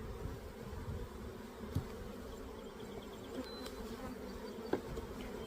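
Honey bees drone steadily inside an overwintered backyard hive in early spring, a dense continuous hum with a few faint clicks and taps over it.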